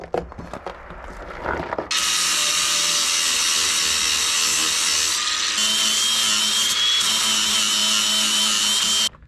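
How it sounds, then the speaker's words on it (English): A flap disc grinds loudly against sheet metal on a Jeep Wrangler TJ, clearancing for 35-inch tires, in one long continuous whine, preceded by a few brief clanks and taps. "I'm gonna take a flapper disc and a hammer and do some clearancing"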